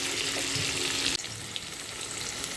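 Potatoes frying in a covered pan make a steady, close sizzle for the whole stretch, with a brief clatter partway through and no talking.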